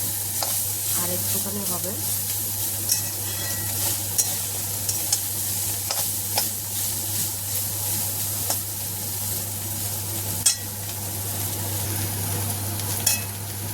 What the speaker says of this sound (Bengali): দেখো আমি ঢাকনাটা খুলে এটাকে নাড়িয়ে দিয়েছি